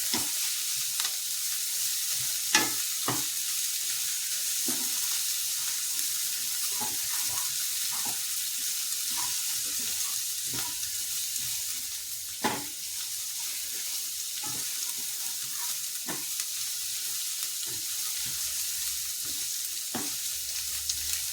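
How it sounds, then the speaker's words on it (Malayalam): Eggs scrambled and fried in a pan for egg rice, a steady close sizzle broken by repeated sharp scrapes and clinks of a spatula stirring, with no talking. "നമ്മളിത് ചിക്കി വറുത്തിട്ടാണ് ഇടുന്നത്"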